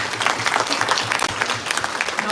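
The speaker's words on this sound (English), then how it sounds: "I think we can give you a round of applause." An audience at a panel discussion on assisted living claps together in a dense, steady round of applause that lasts the whole stretch.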